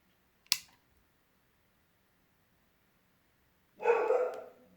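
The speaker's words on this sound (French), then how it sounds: "ils ont entendu un chien encore dehors" After a sharp click and a long silence, a single dog bark sounds near the end, clear and somewhat muffled.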